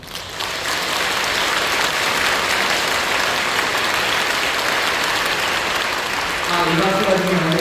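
A church congregation in Incheon claps loudly and continuously after a baptism in a Korean service, a dense sustained applause with a voice starting to speak at the very end.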